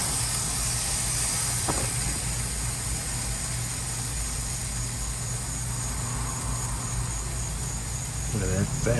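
Tri tip sears on a grill with a steady, close broadband hiss that runs unbroken from start to finish, under a low constant hum.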